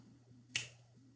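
A single quiet clap in a classroom vowel-sound game, one sharp isolated hit over a faint steady hum, with nothing else around it.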